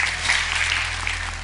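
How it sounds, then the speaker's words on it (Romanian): Studio audience at a Romanian stand-up comedy show applauding, a broad steady wash of clapping for a brief moment, fairly loud with a low background hum beneath. "Vă rog aplauze."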